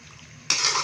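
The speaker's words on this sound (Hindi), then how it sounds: "तो अभी इसको हल्का सा भूनेंगे" Boiled beef being stirred and sautéed in a karahi with a little ground coriander, a quiet start followed by a sudden loud burst of sizzling and metal scraping that holds steady to the end, with no talking.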